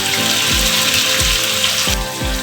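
Water poured from a cup into a pan of cooking bitter gourd, a loud continuous splashing stream with several low gurgling pulses as it fills, no voices.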